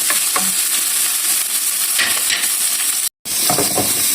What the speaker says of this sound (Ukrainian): Бікон е, вже має заготовий, але я хочу таку коріночку зробити, тоді він більш смачний.